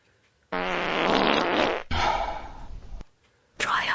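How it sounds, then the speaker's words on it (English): A smart speaker plays a loud, strained fart sound effect: a long pushing blast followed by a second rougher burst, then a short cut-off start of another sound, close and clear with no talking. "Here comes a pushing hard fart."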